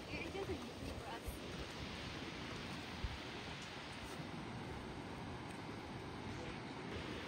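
A waterfall in the hills of Meghalaya gives a faint, steady, broad rushing roar heard from a distance, unbroken across the whole stretch with some wind noise.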